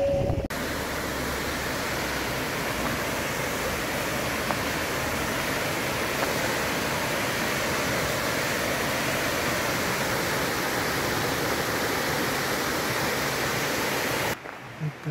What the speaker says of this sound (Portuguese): A cascata linda lá na frente